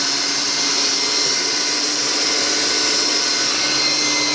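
A broken hair dryer with two motors runs at maximum power, giving a loud, steady, high-pitched whine and rushing airflow close up, unchanging throughout with no voices.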